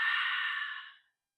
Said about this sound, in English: Exhale as you let it on out.